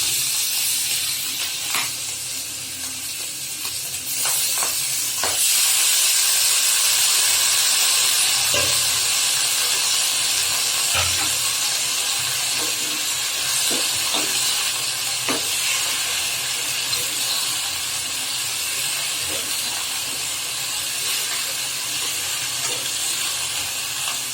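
Leafy greens sizzle and hiss steadily in a pan with dry fish in a Bengali home kitchen, with scattered clicks and scrapes of stirring throughout; the frying stays loud and continuous with no talking.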